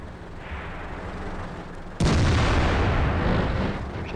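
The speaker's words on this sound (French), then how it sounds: "J'ai Tiger qui a tiré" Tiger tank cannon firing in World of Tanks: a single loud, sudden blast cuts in over a steady low rumble, then its broad roar sustains and slowly fades.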